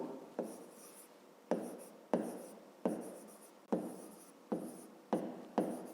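A pen writes numbers on paper for a fifth-grade math exercise, making seven or eight distinct scratchy strokes in a steady rhythm, close and quiet with no talking.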